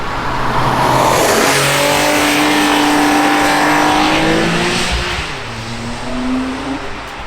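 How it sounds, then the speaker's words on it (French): A Porsche 997 Carrera cabriolet with a 345-horsepower engine, cruising gently with the top down: a close, steady low engine rumble whose pitch rises and falls slightly under wind noise, with no one talking. "on peut cruiser très tranquillement avec un petit vrombissement du moteur derrière"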